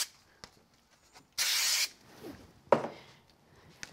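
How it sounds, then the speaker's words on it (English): An aerosol can of spray glue lets out one short, hissing burst onto card for a papercraft project, surrounded by quiet handling noises and a few light taps. "I'm going to give it a quick spray with some spray glue."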